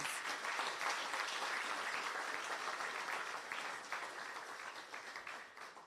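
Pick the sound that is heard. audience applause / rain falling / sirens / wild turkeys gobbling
audience applause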